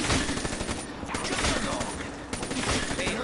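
A haymaker gun blasts away at zombies in a video game, a rapid burst of loud close gunshots cracking in quick succession with a faint voice underneath.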